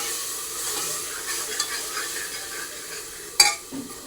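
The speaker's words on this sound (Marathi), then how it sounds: "त्याच्यामध्ये मोड आलेली मटकी टाकतो, एक वाटी. मिक्स करून घ्यायचं." A spoon stirs sprouted moth beans in a pan with soft scraping over a faint sizzle, ending in a sharp clank against the metal.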